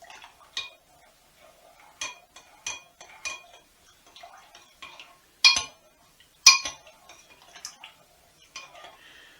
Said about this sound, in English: Make sure you blend that with a spoon.